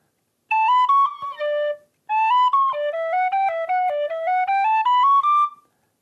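A tin whistle plays a run of low notes up a scale in two phrases with a short gap between, clear, close and solo, without any voices.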